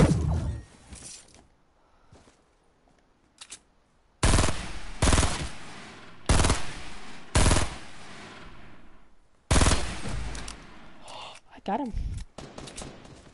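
Gunfire in Fortnite Save the World comes as loud separate bursts and single shots spread across the scene, with quiet stretches between them and someone speaking briefly.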